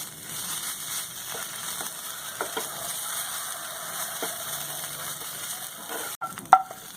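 Soft frying hiss of bottle gourd greens with poppy seed paste in a pan, occasional scrapes and clinks of a utensil stirring, fairly quiet and with no talking.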